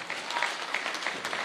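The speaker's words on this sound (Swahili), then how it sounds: "Tuwapigie makofi." A church congregation breaks into applause, a brisk, even burst of many hands clapping at moderate loudness, with faint crowd murmur beneath.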